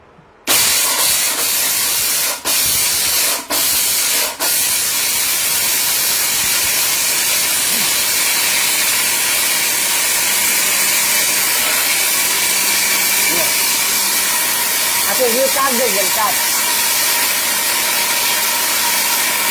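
A steel-bodied electric blender grinds lentils into gram flour with a loud, steady whirring roar that starts abruptly after a few clicks and runs unbroken, close to the microphone.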